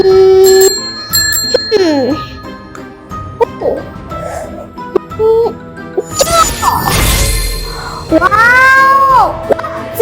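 A bicycle bell rings brightly among playful cartoon sound effects and animated voices in a loud, busy children's scene.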